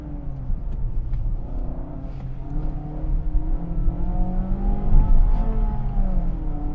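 A Mazda 2 Skyactiv-G hatchback engine revs up and down through quick paddle-shift downshifts in sport mode, a buzzing, rising and falling drone heard from inside the car.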